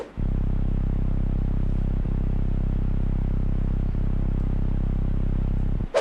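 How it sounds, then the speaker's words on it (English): A sustained, dark Reese bass drones heavily and continuously, thick and steady at high level with a slightly detuned, wavering texture, ending with a brief cutoff. "For the intro, we start with a Reese bass."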